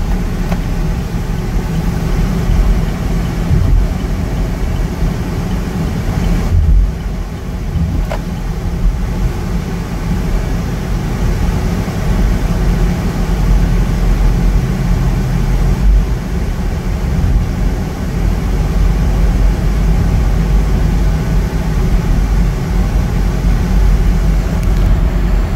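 Car engine under way while driving and shifting gears, a steady low drone with a brief dip partway through as a gear changes, near and unbroken, no talk.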